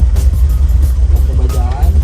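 A 1975 Toyota Corolla KE30 classic car engine cranks and catches in a single start, a short low rumble under a voice.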